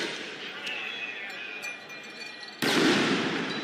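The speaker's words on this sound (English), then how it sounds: "Those are likely flashbangs. Or concussive grenades." A loud, sharp blast goes off near the end, like a flashbang or concussion grenade at a street protest in Los Angeles, following quieter crowd noise and a few faint pops.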